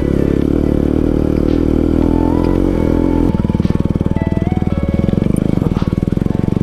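A dirt bike on a rough off-road trail near Pokhara, its engine droning loud and close throughout, the note shifting midway into a harder, pulsing rhythm as the rider changes pace.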